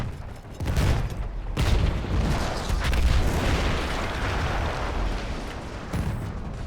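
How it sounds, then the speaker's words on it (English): In the Battlefield 1 campaign, a large gun blows up in a heavy rolling blast, a dense, sustained roar of explosions and debris lasting several seconds, loud and close, with no talking. "That explosion was one of the sweetest sights of the war for me."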